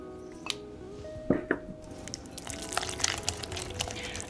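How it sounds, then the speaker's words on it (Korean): Egg yolks being stirred into a cream cheese batter for a white chocolate cheesecake make soft, wet squishing and occasional light utensil taps against the bowl, faint and irregular with no talking. "노른자를 넣고 잘 섞어주세요."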